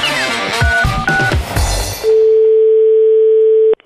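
A telephone line during a prank call: a brief jumble of dialing beeps and tones, then a loud, steady dial tone holding for nearly two seconds before cutting off abruptly.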